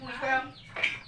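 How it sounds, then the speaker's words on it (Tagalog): A chicken clucks twice up close, a rising squawk followed by a sharper call, with no other voices. "Ayan na yung manok, tatang."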